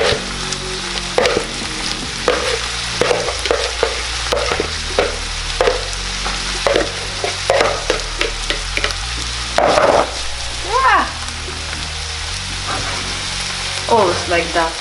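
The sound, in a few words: stirring and frying food with onion in a pan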